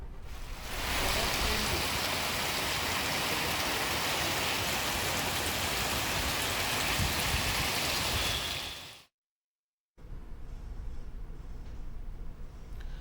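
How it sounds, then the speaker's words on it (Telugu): Heavy rain pours steadily in Hyderabad as rainwater floods and flows across city roads, a loud continuous wash that drops out briefly before resuming slightly fainter. "వివిధ చోట్ల రోడ్లపై వర్షపు నీరు ప్రవహిస్తోంది."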